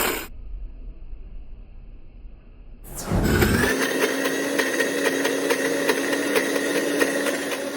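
A mixer grinder starts up after a faint hum and runs hard on potato, peanuts and green chillies, its loud motor whine and grinding churn holding steady to the end.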